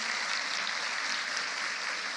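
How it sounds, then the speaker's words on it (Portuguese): A church congregation applauds together, a dense, steady wash of clapping that holds at an even level throughout without a break. "Pode aplaudir a palavra do Senhor."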